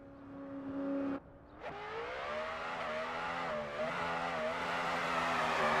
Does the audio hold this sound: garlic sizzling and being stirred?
no